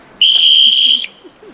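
A whistle is blown once in a sharp, loud, shrill blast lasting under a second, then cuts off, with faint murmuring afterward.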